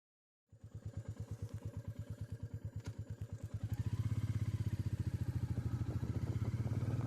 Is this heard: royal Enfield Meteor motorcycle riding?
yes